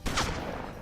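A single burst of gunfire from the turn-based Western video game Hard West, one sharp shot or volley with a brief decaying tail, loud and close.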